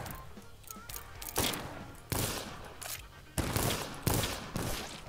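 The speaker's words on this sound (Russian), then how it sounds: "Хватит по мне стрелять, пожалуйста." Bursts of rapid gunfire crack out in several loud volleys, one after another, with short gaps between each round of shots, from the video game 12 is Better Than 6.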